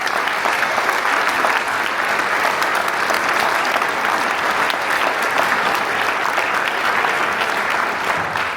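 Steady, dense applause from a concert audience at a Christmas and New Year wind orchestra concert, many hands clapping evenly and loudly throughout without pause.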